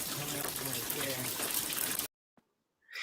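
Water gushes loudly from a leak for about two seconds, a dense close splashing rush, then cuts off to near silence before a faint hiss returns.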